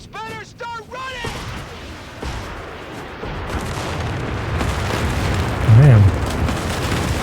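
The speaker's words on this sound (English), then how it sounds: "big explosion for small rockets." A deep, rumbling rocket explosion in Company of Heroes 3 swells and holds under loud game noise, with a voice briefly speaking at the start.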